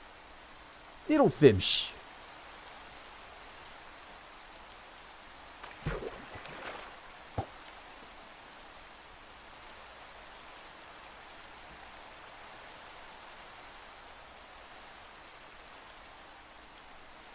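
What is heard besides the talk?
rain in Minecraft, video game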